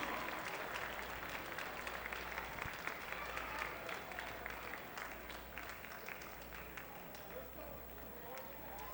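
Steady applause from a crowd at an Indian relay horse race at Canterbury Park fills the whole stretch, a dense wash of clapping at moderate distance with no clear pauses.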